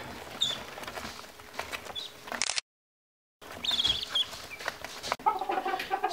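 Young quail chicks, roughly five to ten days old, in a brooder, giving faint high chirps and peeps scattered over a soft background, broken by a brief gap of silence.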